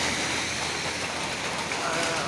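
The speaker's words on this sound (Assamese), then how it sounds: "বৰষুণ পৰা দি আছে" Steady rain falling outdoors at night near a temple, a dense, even hiss of drops filling the whole stretch without breaks.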